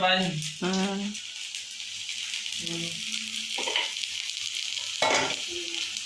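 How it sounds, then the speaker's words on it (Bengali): Green chillies fry in a pan with a steady, close sizzle that runs throughout, while a voice speaks in short bursts over it. "তো এই যে লঙ্কাও কিছু ভেজে নিচ্ছি, দেখছেন?"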